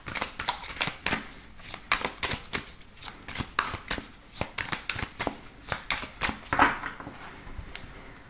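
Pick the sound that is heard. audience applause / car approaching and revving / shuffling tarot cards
shuffling tarot cards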